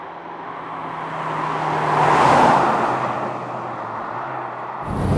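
A 2-litre Mazda MX-5 NC passes on a wet road, its hiss and engine note swelling as it nears and fading as it goes.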